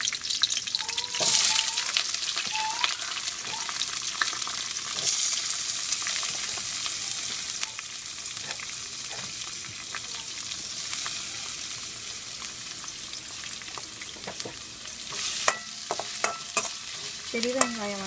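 Large onions sautéing in a pan, a steady broadband sizzle that runs throughout with scrapes and stirring knocks, louder clattery stirring near the end; no talking.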